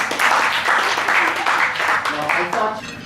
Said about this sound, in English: give them big clap.